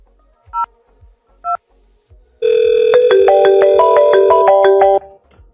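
Telephone tones on a VoIP call: two short beeps, then a loud, steady layered tone that holds for a few seconds and stops abruptly.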